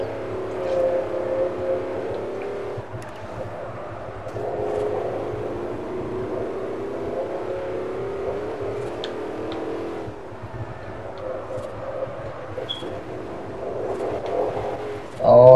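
Car engine hums steadily through a Forza Horizon race in the video game, a continuous revving drone with small shifts in pitch, ending in a brief louder burst at the close.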